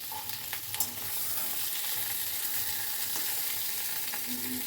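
Water-laden cabbage leaves fry in oil in a wok, making a soft, continuous sizzle with occasional light stirring clicks and scrapes, fairly quiet and without voices.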